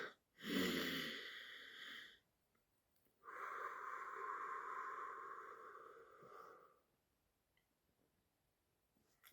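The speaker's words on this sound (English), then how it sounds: "Bro, let's take a deep breath." Two slow, deep breaths are drawn in and released, close to the microphone and alone, the first short and forceful and the second long and steady, followed by quiet.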